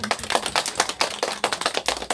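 A church congregation at a Sunday worship service applauds a departing volunteer accompanist, giving steady, dense clapping from many hands in a reverberant hall with no talk over it.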